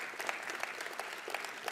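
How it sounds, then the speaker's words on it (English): Audience applause at the Hard Rock Ottawa grand opening, steady, even clapping from a crowd heard at moderate distance for a couple of seconds. "You can clap for that."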